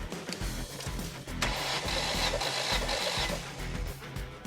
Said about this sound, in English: the key is cycled and the engine is rolled over 3 rotations.